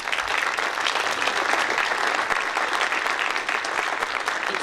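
A crowd in a county legislature chamber gives a sustained round of applause, with dense, even clapping from many hands for several seconds at steady loudness.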